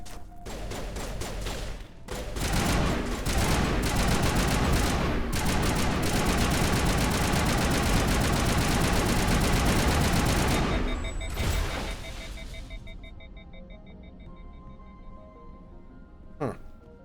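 Sustained gunfire in the sci-fi video game Mass Effect, a dense rapid fusillade of shots running loud and continuous for about ten seconds before tapering into scattered quieter bursts and one late sharp report.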